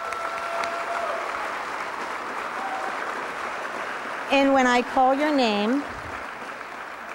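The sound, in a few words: audience applause for class leadership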